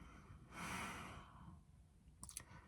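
A person takes a heavy breath, one loud close exhale lasting under a second, followed by quieter breathing and a couple of short clicks.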